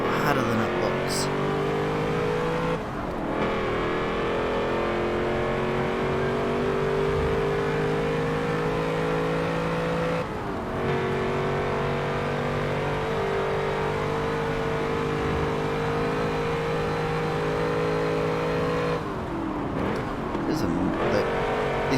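Racing car engines from the video game Forza Motorsport 7, Ford versus Holden at Bathurst, drone and rev continuously, with pitch rising and shifting as they accelerate, and a few abrupt breaks where the sound cuts and resumes.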